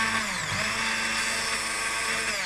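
A kitchen blender purees green crab soup in a saucepan, giving a steady, loud, high motor whine with a bright buzzing edge that barely changes for the whole stretch.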